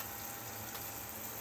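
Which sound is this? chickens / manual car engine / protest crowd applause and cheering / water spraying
water spraying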